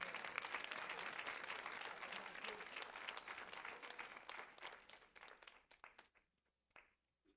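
Church congregation applauding the word of God, sustained dense clapping from a crowd that thins out and fades to scattered claps and silence at the end.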